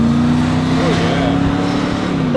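A supercharged Mercedes-AMG G55 engine revs loud and close, with a thick droning note that climbs and falls in pitch throughout the short burst.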